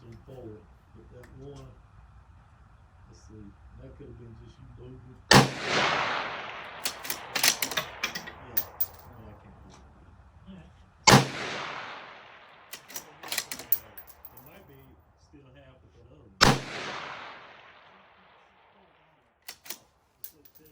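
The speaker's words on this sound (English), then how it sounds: "540 yards with the Mossberg MVP, shooting the 77 grain open tip match" Three loud Mossberg MVP bolt-action rifle shots firing 77 grain open tip match ammunition at a 540-yard target, each sharp crack followed by a long decaying echo and a few fainter clicks of bolt handling between them.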